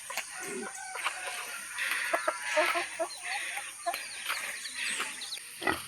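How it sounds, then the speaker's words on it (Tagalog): Chickens cluck and squawk in short bursts over a steady outdoor hum, with scattered bird calls in the background. "Dako kang manok ko."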